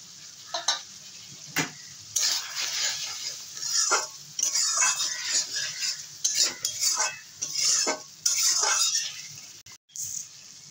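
Potato pieces stirred in a hot pan for a pointed gourd and prawn curry, with sharp scrapes and clinks of a spatula against metal over a soft, intermittent sizzle, up close.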